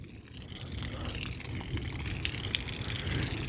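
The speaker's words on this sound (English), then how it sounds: "It's raining just a little bit of tiny drips." Light rain falls on a roof during a thunderstorm, a steady hiss of tiny drips with scattered close patters, fairly quiet and continuous.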